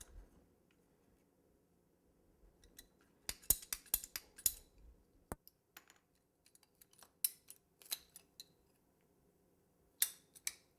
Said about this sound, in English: These are PVC pipe cutters.